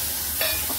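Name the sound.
spices roasting and sizzling in oil with boiled peas added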